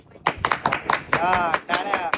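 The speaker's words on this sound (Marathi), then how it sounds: "त्यासाठी विनोद काकांसाठी टाळ्या" A few people clap in a short, uneven burst of sharp hand claps close by, with voices and cheering mixed in over it.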